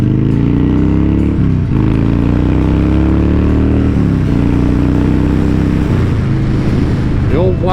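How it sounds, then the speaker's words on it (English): A Harley-Davidson Wide Glide motorcycle on the road, its engine note loud and close, rising and falling with gear changes and throttle shifts under constant wind rush. "The old wide glide is running like a champ."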